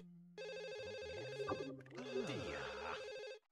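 In The Sims Bustin' Out, a telephone rings in a steady electronic warble that runs for about three seconds with game music underneath, clear and prominent.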